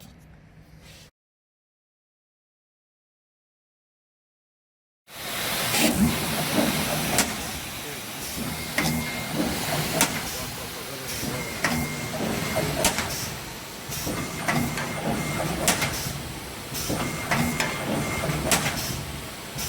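An Easy Flat Fold paper folding machine starts creasing, folding and pressing sheets after a brief silence: a steady mechanical whir and hiss with repeated clacks and thumps running on continuously, while speech is heard over it.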